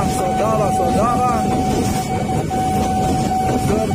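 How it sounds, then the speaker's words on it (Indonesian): The Jayakarta passenger train passes by with a steady rumble and a sustained tonal whine, heard over continuous road and rail noise at a level crossing while someone talks. "Kereta jayanya baru lewat"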